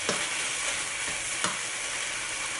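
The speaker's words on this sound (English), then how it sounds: "After you add the Chinese celery maybe 1 minute you stir" Shrimp with curry powder and Chinese celery sizzles in a hot pan while a utensil stirs and scrapes in quick strokes, close and steady, with no voices.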